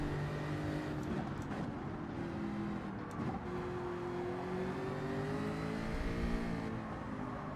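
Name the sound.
race car engine revving in video game Gran Turismo 7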